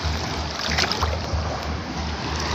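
Waves wash in at a beach, giving a brief, steady rushing roar of surf with a low rumble underneath, fairly loud throughout.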